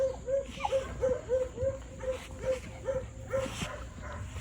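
Several dogs, puppies among them, bark and yip in a quick repeated series of short sharp calls at moderate distance over a faint indoor background.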